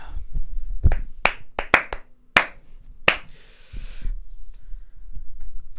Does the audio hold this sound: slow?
yes